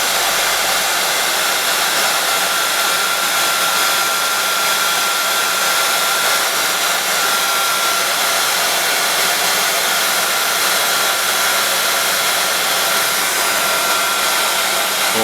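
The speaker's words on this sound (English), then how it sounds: "You can do it with a lighter, but it works so much better with a heat gun." A heat gun blows hot air steadily and loudly, a continuous close-up roaring hiss with no pauses, used while relocating the battery in a Nissan 240ZX project car; no one talks.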